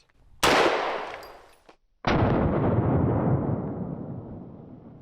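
Two booming .50 caliber SLAP rounds fired from a Serbu rifle, each a sharp, loud blast followed by a long rolling echo that fades slowly.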